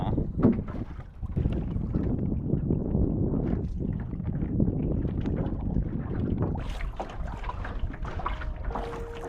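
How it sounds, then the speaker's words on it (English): An RS Aero sailing dinghy moves through the water in very light wind, heard as soft water swishing and lapping against the hull, mixed with gusty wind buffeting the microphone, close and continuous with a few knocks. "Now this is chill sailing."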